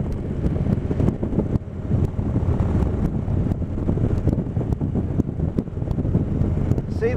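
Steady wind buffeting the microphone during a Harley motorcycle ride beside choppy Tappan Lake, a continuous low rumble with gusty swells throughout and no voices.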